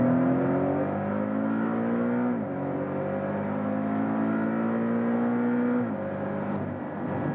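A 2018 Porsche 718 GTS with a PDK automatic gearbox revs hard under acceleration, its engine note rising steadily and dropping at two quick upshifts, loud and close with no talking.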